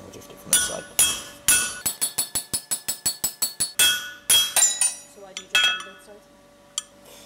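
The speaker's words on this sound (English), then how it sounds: "we'll drift it from this side" A hammer rings sharply on a drift set through blacksmith tongs on an anvil, a quick run of about a dozen metallic strikes followed by a few spaced, lighter taps, close and loud, with brief talk at moments.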